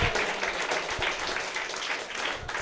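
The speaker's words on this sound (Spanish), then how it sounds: "Dale un fuerte aplauso al Señor." Church congregation applauding during a worship service in Lima, Peru: dense, steady clapping that fills the room evenly throughout, with no voices over it.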